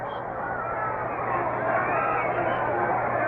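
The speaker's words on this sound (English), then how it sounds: "Big, lively crowd here at Shea Stadium" Big, lively baseball crowd at Shea Stadium during a Mets game, a steady dense roar and babble of many voices filling the whole moment without a break.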